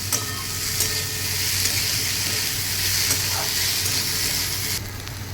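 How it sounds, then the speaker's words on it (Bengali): Soaked sago sizzles in a hot pan while being stirred, a loud continuous frying hiss with occasional scraping of the spoon, close up and with no talk. "দিয়ে আমি এগুলোকে নিয়ে আবার একটু নাড়াচাড়া করে ভাজা ভাজা করে নিচ্ছি।"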